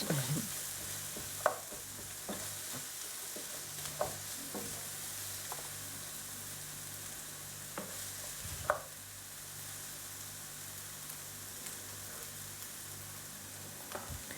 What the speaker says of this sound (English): put your onions in and just let them go for a little bit